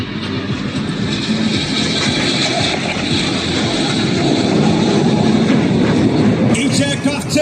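Jet aircraft of the Red Arrows display team roar overhead at the Malta International Airshow during a crossing barrel-roll manoeuvre, a loud sustained broadband rush with crowd noise underneath.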